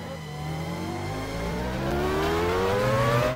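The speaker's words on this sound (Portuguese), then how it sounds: "Vem o Bourdais pra fazer outra passagem" A Formula 1 race car passes in a racing video game, its engine whine climbing steadily in pitch and growing louder.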